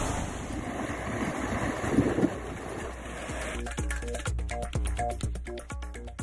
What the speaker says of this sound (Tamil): காவிரி கூட்டு குடிநீர் குழாயில் நீரூற்று போன்று திடீரென பொங்கிய தண்ணீர்.